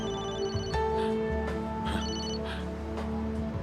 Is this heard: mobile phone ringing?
yes